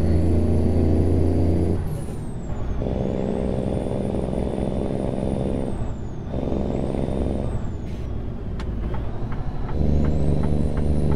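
Cummins N14 diesel engine of a big rig in American Truck Simulator, a loud, steady low rumble close up, broken twice by sharp hissing air brake releases, with a whining tone rising and falling over the drone.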